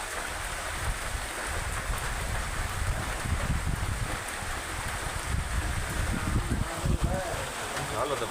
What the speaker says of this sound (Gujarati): સારો વરસાદ ચાલુ છે.